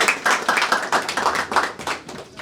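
An audience claps at a community gathering, a brisk run of overlapping handclaps for a couple of seconds, close and fairly loud.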